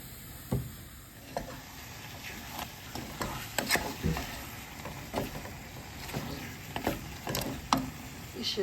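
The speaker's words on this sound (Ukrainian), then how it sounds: "Підсмажую сливи і також додаю цукор." Soft sizzling of plums frying in a pan, with scattered scraping and tapping of a spatula at an uneven pace.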